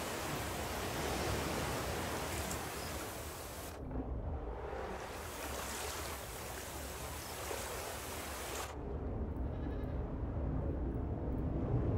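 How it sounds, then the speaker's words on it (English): A goat bleats in the Raft survival video game, set against a loud, steady wash of broadband noise like sea and surf that briefly drops out twice. "We got the goat."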